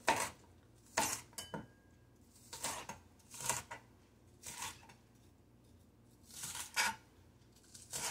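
Knife chopping green onion on a board: a series of sharp, close chops in irregular small bursts, separated by brief quiet gaps, with no talking.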